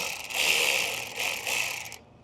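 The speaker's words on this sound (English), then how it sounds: "We're going to go ahead and loosen our turbo clamp." A ratchet with an 8mm socket loosens the turbo intake clamp on a Ram 6.7L Cummins, giving a close, steady buzzing clicking in two bursts with a brief pause between them.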